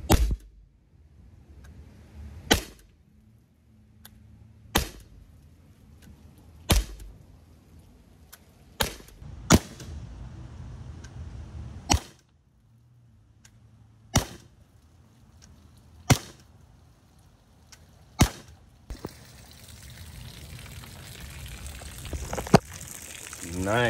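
An HDR 50 fires 3 gram destructor slugs through a chronograph, about a dozen sharp, loud snapping shots at irregular intervals of a couple of seconds, with quiet gaps and a faint background hum between them.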